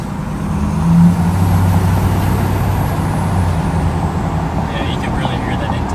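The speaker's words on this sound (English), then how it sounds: "now you can hear that turbo more, especially when you let off" A deleted 2020 Ford Tremor Powerstroke diesel truck idles and revs with turbo whistle and intake rush, a loud close engine drone with a brief swell and a spooling whine near the end.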